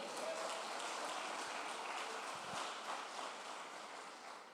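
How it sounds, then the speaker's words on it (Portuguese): A church congregation claps together during a worship service, a dense, steady patter of many hands heard from some distance, softening slightly toward the end. "As palmas para o Senhor."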